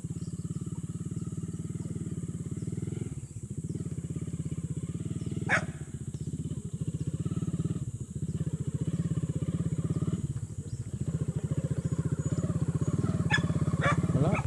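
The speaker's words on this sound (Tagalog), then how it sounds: "Hinatid ng motor." A motorcycle engine idles and putters close by in a rural yard, steady and fairly quiet with a few brief revs and clatters, and a dog barks faintly at one point.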